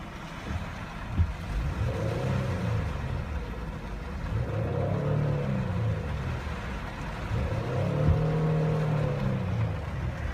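A 2015 Ford Flex's 3.5 liter V6 revs in the rain, swelling and falling in two or three rising rumbles over steady low engine drone, heard from nearby with no talk.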